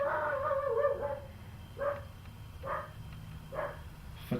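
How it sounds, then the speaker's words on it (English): A neighbor's dog, heard from a distance, gives a muffled whining call followed by three evenly spaced, faint barks. "Fucking neighbor's dog."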